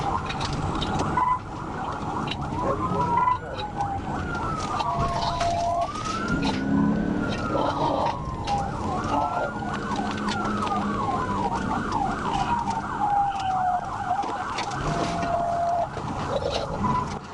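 A police car siren wails continuously during a high-speed chase of a stolen car, its pitch sweeping up and down in repeated cycles, loud and close over road and engine noise.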